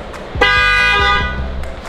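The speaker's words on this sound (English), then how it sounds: "Let's do a honk real quick." A car horn blares in one sustained honk of about a second and a half, loud and close, then cuts off, with no talking around it.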